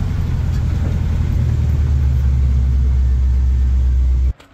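A 1956 Chevy pickup truck engine rumbles loud and close with a deep, steady idle during a test drive, then cuts off abruptly at the end.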